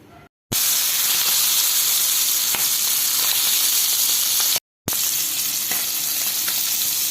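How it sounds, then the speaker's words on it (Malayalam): Sardines fry in hot oil with a loud, continuous sizzle and crackle up close, broken by two brief silent gaps, then resuming just as steady. "എന്നിട്ട് എണ്ണയിലോട്ട് ഇങ്ങനെ നിരത്തി വെച്ച് കൊടുക്കാം"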